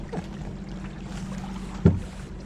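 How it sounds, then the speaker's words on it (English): A rowboat fitted with two motors runs across open water near Hoover Dam, a steady low engine drone and water wash with a sharp knock near the end. "a dual engine rowboat"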